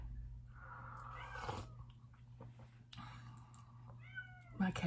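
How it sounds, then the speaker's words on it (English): A house cat meows repeatedly while shut inside a room, the calls muffled and moderately near, standing out against a steady indoor hum. "My cat's meowing to get Sam just locked her in my room on accident."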